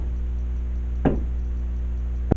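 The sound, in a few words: voice imitating a knock on a door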